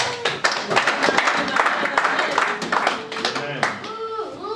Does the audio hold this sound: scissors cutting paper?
no